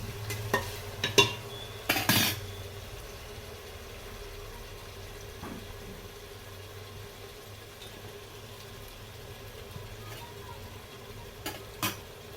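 Soybean rice ingredients frying in oil until reddish, with a soft, steady sizzle under a few loud spoon clanks and scrapes against the pan near the start and end, close by.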